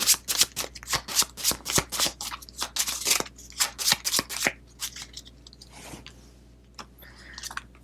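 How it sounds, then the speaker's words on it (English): A deck of board game cards riffled and shuffled up close for a solo tabletop session, a quick series of crisp flapping bursts that thin out into a few softer taps toward the end. "Let's shuffle these up"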